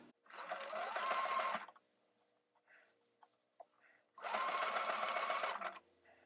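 A sewing machine stitches faux fur fabric in two long steady whirring bursts, close and fairly loud, with a quiet pause and a few soft handling noises between them.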